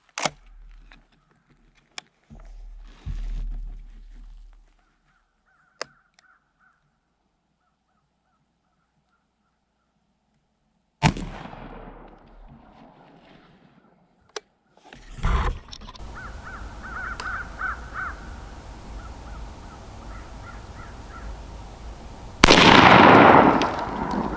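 Stoeger M3020 shotgun loaded with Winchester Longbeard XR turkey loads fires outdoors at a 20-yard pattern target, giving sharp, loud single blasts separated by long quiet stretches, with birds cawing faintly in the background.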